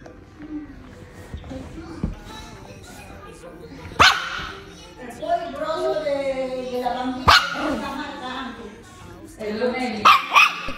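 A small dog yips and barks a few sharp times while people talk and laugh nearby, the barks cutting through the chatter at intervals.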